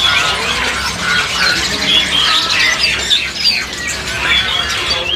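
Myna birds at a crowded bird market stall call loudly with harsh squawks and chirps, many overlapping calls close by in a busy, continuous chorus.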